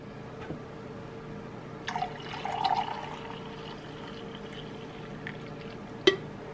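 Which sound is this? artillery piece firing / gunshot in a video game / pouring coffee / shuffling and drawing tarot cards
pouring coffee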